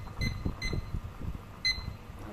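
A kitchen timer gives three short, high electronic beeps, spaced irregularly over a low background rumble in a home kitchen, faint and close.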